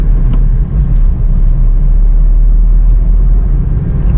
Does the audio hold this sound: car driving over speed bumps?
yes